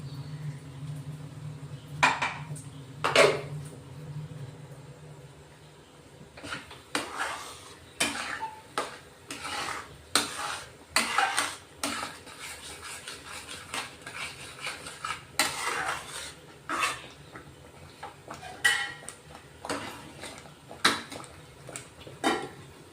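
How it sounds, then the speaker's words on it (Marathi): Shahi paneer masala with a little water is worked around a pan, giving irregular metal spoon scrapes and clinks against the vessel, close and moderately loud, over a faint low hum early on. "चांगले तेल सुटेपर्यंत हा मसाला आपण परतून घेणार आहे"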